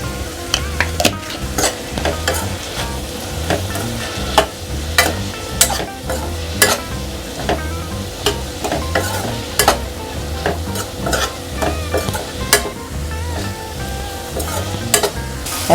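Garam masala fries in hot oil for Ganesh vermicelli pulao, a steady close sizzle punctuated by frequent rhythmic scrapes and taps of a spatula stirring the pan.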